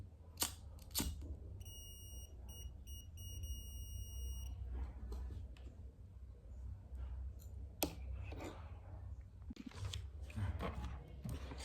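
A high-pitched Arduino sensor buzzer beeps in a rapid pulsing pattern for a few seconds, over scattered clicks and low background hum.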